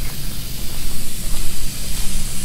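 A spray gun applies primer to cars inside a paint spray booth, giving a loud, steady hissing spray with pulsing airflow and a low hum beneath, no speech.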